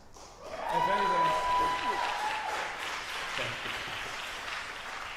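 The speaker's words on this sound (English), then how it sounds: "It's been a while since I've gotten this much applause" Audience applause at a public meeting: a burst of clapping rises after a brief pause and continues steadily at moderate loudness, with a speaker talking over it.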